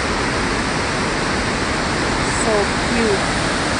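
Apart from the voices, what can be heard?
small waterfalls at Burney Falls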